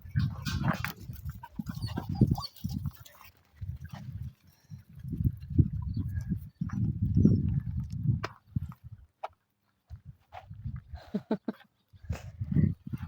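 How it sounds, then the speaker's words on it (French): Puppies yap and bark at other dogs in scattered low bursts, fairly close, with snuffling and movement between the barks and no clear talk. "Regardez, ils aboient sur les autres chiens."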